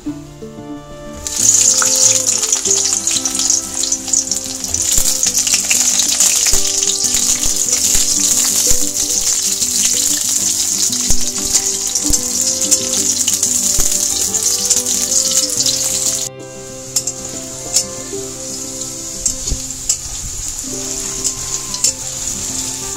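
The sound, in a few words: eggplant frying in hot oil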